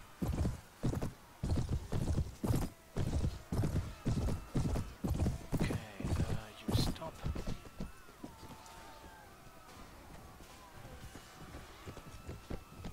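Horse hooves clip-clop in a rapid, regular rhythm during a medieval battle in Mount & Blade, loud and close for several seconds, then fading out as other game sounds and a faint whinny continue.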